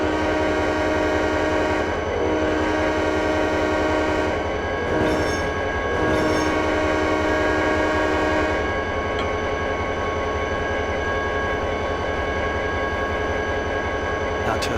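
Rumbling train noise from the Trainz 2010 simulator as covered gondola cars pass on a siding, with a loud continuous tonal drone, brief horn-like bursts, faint rhythmic clatter and someone talking over it.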